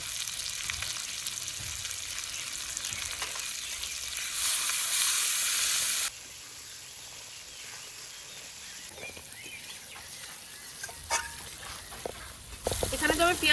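Salt and turmeric frying in oil in a pan for taki fish curry, a soft continuous sizzle with brief louder hissing bursts and occasional stirring sounds, fairly quiet.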